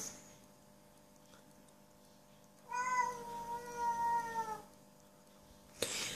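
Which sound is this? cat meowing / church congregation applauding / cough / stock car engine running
cat meowing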